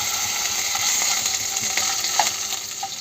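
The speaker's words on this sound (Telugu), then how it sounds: "ఈ నేతిలో రవ్వని వేయించుకుందామండి" Bombay rava semolina fries in hot ghee in a pan, a steady dense sizzle with light scraping stirs and a few soft clicks, close and continuous with no talking.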